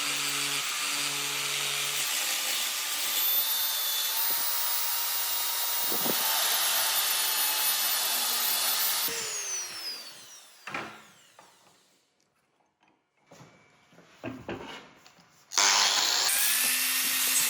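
Hand-carving and rasping the inside finger contours of a knife handle for a Damascus blade forged from forklift chain, with steady scraping and power-tool noise that drops to near quiet midway before sharp bursts of work resume.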